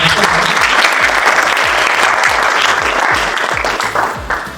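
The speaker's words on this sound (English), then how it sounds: "Can we have a huge round of applause?" Sustained applause from an audience at a corporate company event, loud and dense clapping filling the hall throughout and easing slightly near the end.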